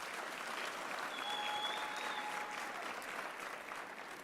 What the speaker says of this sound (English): Shall you give them a huge round of applause?